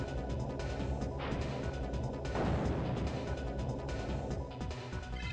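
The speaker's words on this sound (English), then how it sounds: "Magic missile!" Magic Missile attack in a Digimon video game: a sharp smashing impact bursts out near the middle, ringing and crackling against a busy game-music backdrop, with a smaller hit just before it.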